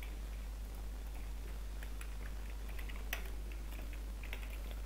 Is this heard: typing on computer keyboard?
yes